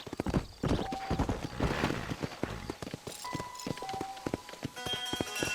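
Horse hooves clip-clopping in a steady rhythm in a Western video game, moving at a trot with a whinny, under game music and faint ambience, fairly close.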